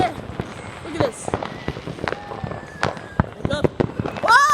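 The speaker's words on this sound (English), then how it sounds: "fireworks everywhere" Fireworks burst all around in rapid, irregular pops and cracks, some close and loud, with crackling between blasts and excited voices talking over them.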